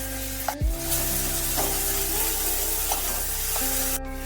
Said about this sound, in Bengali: টমেটোটা দিয়ে পেঁয়াজের সাথে একটু ভালোভাবে নাড়তে হবে।